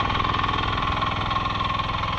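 A tractor engine runs steadily nearby while puddling a muddy paddy field for rice planting in Konkan, a loud continuous chugging drone with an even low throb.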